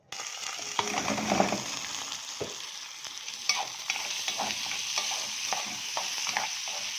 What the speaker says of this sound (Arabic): دلوقتي سخنت الزيت وحتة سمنة صغيرة سيحتها، هحط الرز الابيض واشوحه بايدي